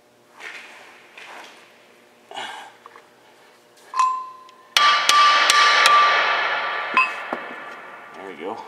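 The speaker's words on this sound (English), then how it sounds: "Just want to give it a little tap so that I can get the nut started." Metal hammer tapping on a nut while fitting a lower control arm and sway bar bushing in a car's suspension, a few sharp close strikes with ringing metallic clangs, with some talk early on.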